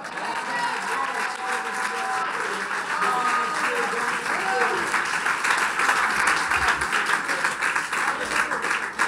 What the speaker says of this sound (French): Est-ce que quelqu'un peut d'abord acclamer le Seigneur?